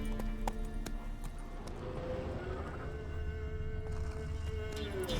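Hooves of Roach, a horse in The Witcher 3 game, clatter in a steady galloping clip-clop under a continuous layered backdrop of music and ambience, with no one speaking.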